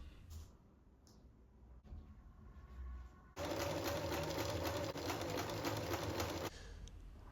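A sewing machine joins two pieces of a 1606 British flag along a red stripe, running in one steady loud burst of about three seconds after quieter handling noises.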